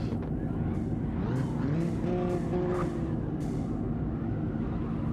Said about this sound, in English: As we look at the two next cars up here, of DK and Scum.